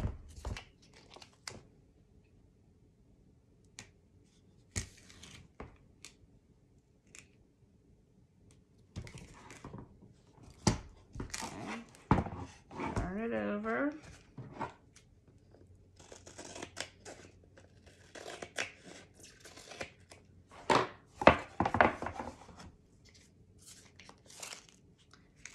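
Scissors cutting paper for a paper-craft album, close, repeated snips and crinkly paper handling in irregular bursts, with quiet gaps between.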